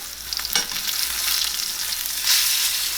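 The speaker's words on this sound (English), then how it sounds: "This butter is going to assist us in basting the steak." A New York strip steak sears in a pan while being basted with butter, giving a steady, close sizzle with sharper spitting bursts and spoon clinks.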